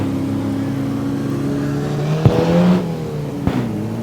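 Junior sedan race cars circle Carrick Speedway dirt track, a steady engine drone from several cars with a rising revving pass and two sharp knocks, fairly distant and continuous.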